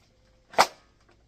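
A Nerf GL blaster fires a single shot outdoors, a sharp, close pop with a quick fading tail and no talk.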